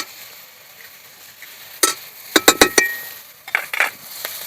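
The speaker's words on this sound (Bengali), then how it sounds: "দিয়ে দেবো হলুদ গুঁড়ো, লবণ, অল্প করে দুবার একবার নেড়ে নেব," Water lily stems fry in a pan with turmeric and salt, a soft background sizzle broken by a cluster of sharp scraping stirs and clanks from a utensil against the pan.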